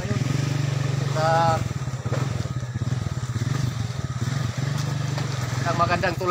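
A motorcycle engine runs steadily and loud throughout on a ride toward a bridge in Southern Leyte, its low drone continuous, with a few brief higher tones and clatter mixed in.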